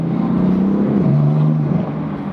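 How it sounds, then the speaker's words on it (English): A BMW M4 fitted with a Turner Motorsports cold air intake revs with a loud, close engine drone whose pitch climbs, drops sharply as if on a shift, then holds steady, with no talk. "Hope you can hear a little bit of that Terpsky. Downshifts and the upshifts"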